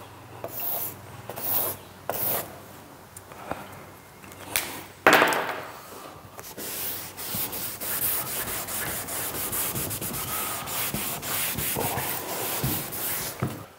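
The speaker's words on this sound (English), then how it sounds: "That marker all comes off nicely with the denatured alcohol that I'm using." Marker is scrubbed off a vinyl plank with denatured alcohol, with close rubbing strokes, a few sharp scrapes early on, then a sustained brisk scrubbing.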